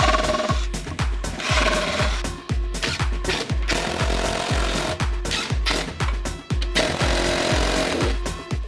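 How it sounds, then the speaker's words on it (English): A power drill bores pilot holes for a cabinet, loud and close, in repeated short bursts of whirring and grinding with brief pauses between them. "Then I can do the pilot holes."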